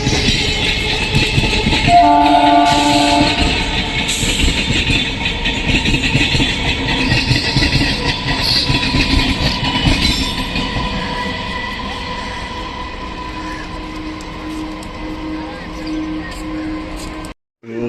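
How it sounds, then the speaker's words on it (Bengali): Sealdah–Krishnanagar City main-line local train pulling out of platform one at a busy station, a loud continuous rumble and clatter of wheels with a brief horn blast early, steady as it gathers speed and fading slightly toward the end. "বেরিয়ে যাচ্ছে এক নম্বর প্ল্যাটফর্ম থেকে শিয়ালদা কৃষ্ণনগর সিটি লোকাল এক নম্বর প্ল্যাটফর্ম থেকে বেরিয়ে যাচ্ছে"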